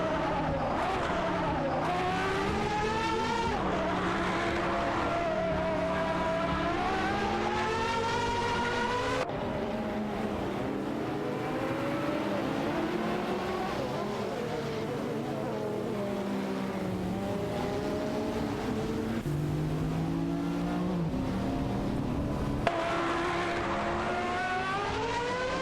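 Peugeot 905 race cars in a racing video game, several high-revving engines whining and rising and falling in pitch through gear changes, overlapping and continuous, loud and close throughout.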